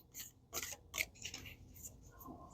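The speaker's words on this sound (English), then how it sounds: "Give them a quick shuffle." Tarot deck from the Wild Unknown Archetypes being given a quick shuffle, with soft papery riffles and slides in a few short bursts, fairly close and quiet, no talking.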